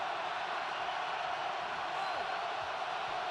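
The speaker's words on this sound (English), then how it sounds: "Crowd already in full throat." A large football stadium crowd roars steadily at an NFL divisional playoff game, Colts at Chiefs, a dense continuous wall of cheering that stays loud and even throughout.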